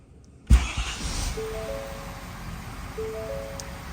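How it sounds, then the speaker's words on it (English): A 2023 Ford F350 diesel truck cranks and fires up with a sharp burst, then settles into a steady, close diesel idle that runs on to the end. "Let's go ahead and start the truck."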